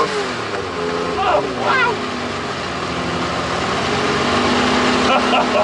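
MG Metro 6R4 rally car engine howls at high revs on a rally stage, a loud, steady, rasping roar throughout, with an excited voice briefly exclaiming over it.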